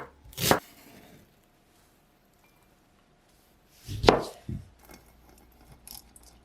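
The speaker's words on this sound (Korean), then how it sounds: "양파 반 개는 다져서 용기에 담아 놓을게요." Half an onion is cut with a knife on a board: two crisp, isolated chopping knocks separated by a few seconds of near silence, followed by fainter handling sounds, with no one speaking.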